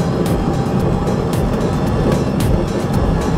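Boeing 737-800 flight simulator at takeoff thrust: a loud, steady roar of engine and airflow noise filling the scene, with faint repeating whooshes over the constant rumble.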